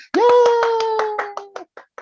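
About a dozen quick hand claps ring out in a rapid, even rhythm beneath a sustained voiced cheer, close and fairly loud, thinning into a few scattered claps at the end.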